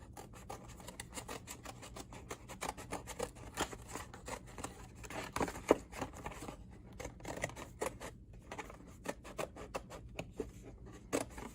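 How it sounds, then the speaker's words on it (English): Rapid, repeated snipping of scissors cutting a paper craft template, close by, with soft rustling between cuts and no talking. "we have this really great template, and we're just going to cut it out"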